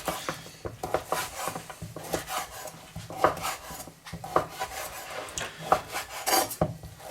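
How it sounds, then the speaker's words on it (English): A knife chops an ingredient into small pieces for stew on a wooden board, giving irregular close taps and scraping strokes with short pauses between bursts. "I'm just going to cut the ends off here and then chop it up into small pieces"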